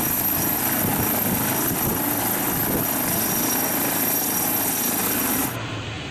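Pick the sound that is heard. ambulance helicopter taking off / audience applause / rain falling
ambulance helicopter taking off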